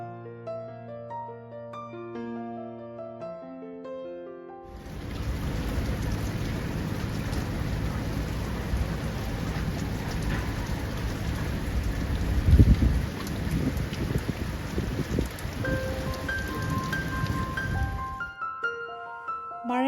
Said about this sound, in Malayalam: മഴയുടെ ശക്തി അല്പം കുറഞ്ഞിട്ടുണ്ട്.